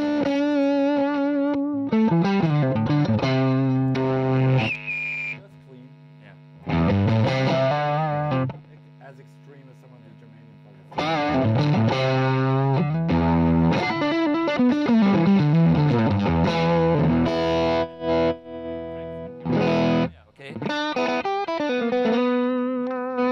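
Electric guitar through fuzz pedals into an AMP1 Mercury/Iridium amplifier, thick saturated bursts of chords and notes in separate phrases with short silences between, loud and up close.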